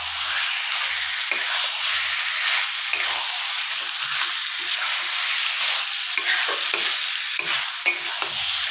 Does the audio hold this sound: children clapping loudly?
no